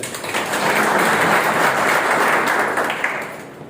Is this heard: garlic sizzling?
no